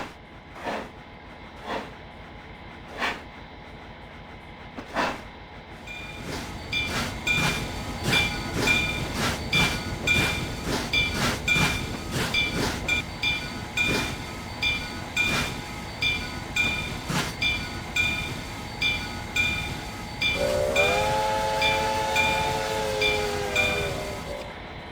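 Steam locomotives arrive at a Southern Railway steam gathering, their wheels clacking in a steady, rhythmic beat as they roll in, followed by a long, loud whistle blast near the end with no talking.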